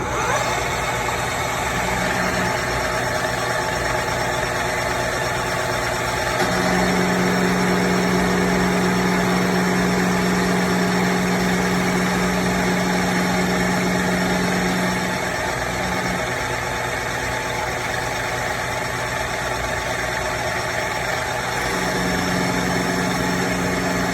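A metalworking machine runs steadily at close range while it cuts metal, turning off long chips. A constant mechanical drone holds throughout, a stronger low hum comes in partway through, and no one speaks.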